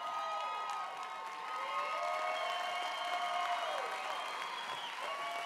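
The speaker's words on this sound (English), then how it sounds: "How about a round of applause for him" An audience at a swimsuit pageant applauds with a steady, moderately loud wash of clapping that lasts the whole stretch, while sustained tones ring through underneath.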